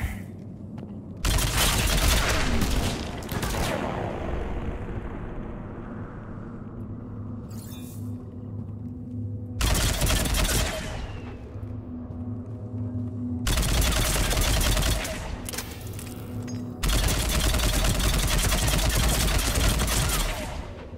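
Enemy rocket fire in Mass Effect 3, heavy booming blasts with rumbling tails arriving in several loud bursts over a constant low combat drone, a brief high whine between them.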